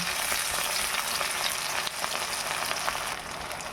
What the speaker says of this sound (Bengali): তেলটা আমার প্রচুর গরম হয়ে গেছিলো তাই আমি আগে পেঁয়াজটা দিয়ে ভেজে নিই